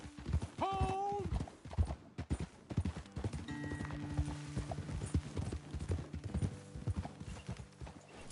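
Horse hooves clip-clop steadily in Red Dead Redemption 2, close and rhythmic, with a whinny early on and a character's voice talking over the hoofbeats.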